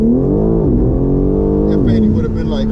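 A BMW G82 M4 Competition with traction control fully off accelerates hard, its loud engine droning steadily and rising in pitch, briefly dipping at a shift, heard from inside the car with voices joining near the end.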